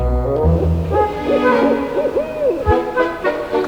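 An owl hoots in a rhythmic series of wavering calls at an owl sanctuary, fairly close and clear, with a low rumble at the start.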